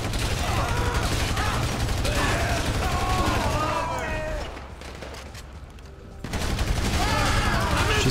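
Rapid bursts of automatic gunfire from a GTA V firefight, loud and dense, with a quieter lull midway before shooting resumes; a voice talks over parts of it.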